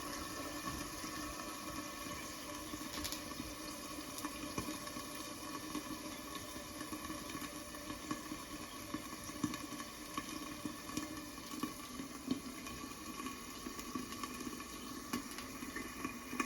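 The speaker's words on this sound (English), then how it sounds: "I'm actually going to add a little bit of water because that wasn't enough." Water poured into a pan while dumplings cook, a steady low hiss and trickle that runs on evenly and quietly for the whole stretch, with no voices.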